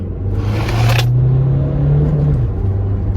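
A Peugeot RCZ with a manual gearbox accelerates hard close by, its engine note climbing steadily in a loud, continuous rumble before easing off slightly at the end.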